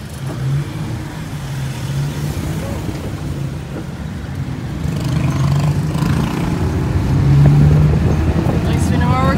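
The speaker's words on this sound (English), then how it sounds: "We're in a tuk-tuk" Inside a tuk-tuk rolling through Bangkok, a steady engine drone rises and swells as it accelerates, with road noise throughout and voices talking over it.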